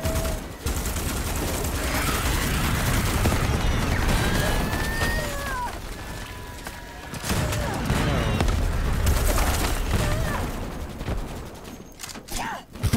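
Dense, continuous gunfire and explosions roar in a Starship Troopers Extermination battle against alien bugs, a loud, unbroken barrage of rapid shots and blasts with brief lulls and people talking over it.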